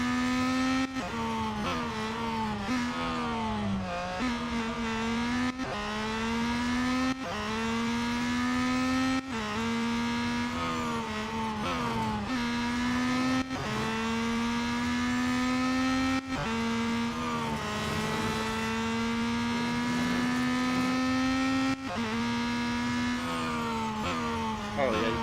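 A Peugeot 9X8 hypercar in Real Racing 3 holds a steady, loud engine drone throughout, its pitch climbing and dropping with gear changes and braking, with someone talking over it.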